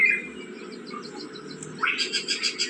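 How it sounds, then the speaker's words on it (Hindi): A bird chirps in a repeated run of short, bright tweets near the end, after fainter calls earlier, heard fairly close over a steady hum of background noise. "चिड़िया देख रही हो"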